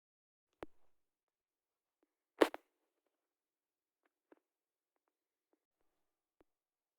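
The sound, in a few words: airsoft gun shots with Italian custom hop-up bucking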